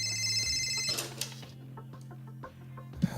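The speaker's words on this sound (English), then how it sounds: "Alex, the red phone's ringing" A red telephone rings with an electronic trilling tone at first, then fades under clattering background noise and small knocks.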